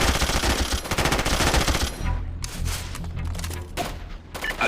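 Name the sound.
gunfire in video game SOCOM Fireteam Bravo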